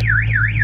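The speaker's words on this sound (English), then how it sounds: "You sound the alarm." A Dodge Scat Pack's car alarm blares close and loud, its warbling tone sweeping up and down in a steady repeating cycle.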